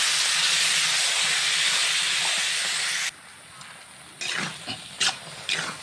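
Curry is poured into a hot pan over browned chopped onion and hisses into a loud, broad sizzle, which cuts off abruptly and gives way to quieter bubbling and a few stirring clatters.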